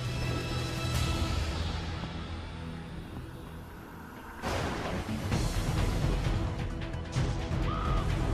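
Harsh crow caws sound over a dense, loud orchestral film-trailer bed, with a dip in the score near the middle before it surges back.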